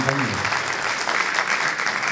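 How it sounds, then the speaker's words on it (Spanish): A crowd breaks into loud, sustained applause, many hands clapping densely and evenly close by. "un aplauso a todos los compañeros"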